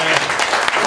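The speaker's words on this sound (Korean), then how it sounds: "자, 박수로 환영해 주시기 바랍니다." An audience at a civic forum's general assembly applauds to welcome a newly elected representative, a brief burst of dense, loud clapping that runs close and continuous.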